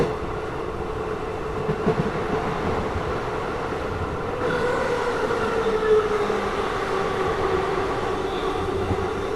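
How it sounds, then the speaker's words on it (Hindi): A train runs past Balamau junction on the way to Shri Mata Vaishno Devi with a steady rumble and rattle of wagons, heard from on board. A faint wheel squeal rises midway, and no one speaks. "बाकी यहाँ पे अपनी ट्रेन बालामऊ जंक्शन को स्किप कर रही है।"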